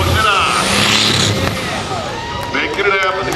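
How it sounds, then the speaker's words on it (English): A diesel monster truck engine flutters and revs loudly at an ActionTracks event in Indianapolis, rising and falling in a dense, close roar with whooshing air and crowd noise underneath. "They got the little diesel flutter."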